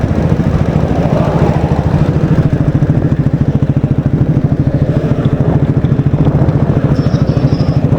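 An open-spec motorcycle engine idles beside a highway with a loud, close, steady throbbing putter and a metallic clatter, alone without voices.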